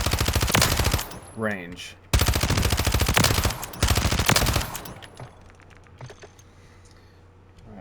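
Bursts of rapid SMG fire on a video game firing range rattle out loud and close in two long volleys with short breaks, then fade into quieter scattered clicks while someone speaks briefly.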